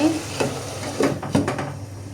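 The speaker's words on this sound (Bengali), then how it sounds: "এই তো সবজিগুলি আমি খুব সুন্দর করে এখন কষিয়ে নিচ্ছি" Mixed vegetables stirred and sautéed in a pan for a small-fish and sweet potato dish, giving a soft sizzle with a few scraping stirs, close by and moderately loud.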